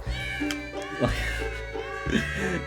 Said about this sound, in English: It's a platform for the wretched rhyme screeches of these animals set to Christmas music.